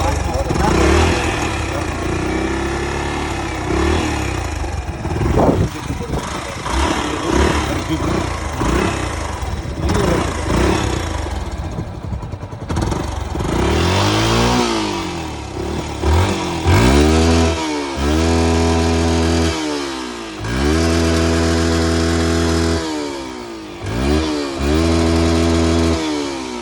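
A Yamaha RX 150 two-stroke motorcycle engine idles roughly, then revs up and down in repeated strong bursts, loud and close, with people talking nearby.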